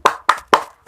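A classroom of children doing a spirit clap: three sharp, evenly spaced claps, loud and close, with nothing else around them.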